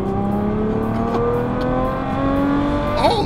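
A Ferrari 812 Superfast V12 pulls hard under heavy throttle, its loud engine note climbing steadily in pitch through the gear, then dropping sharply at a shift near the end, recorded from inside the car.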